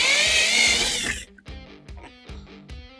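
A power drill boring screw holes through a window frame in a timber-frame bathhouse, a loud steady whine for about a second that cuts off abruptly, followed by a few rhythmic knocking and rattling bursts.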